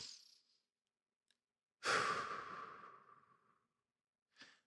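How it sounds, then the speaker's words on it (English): A single deep belly breath: a faint short inhale, then a long, close, airy exhale that fades slowly, followed by a brief soft breath at the end. "Deep belly breath."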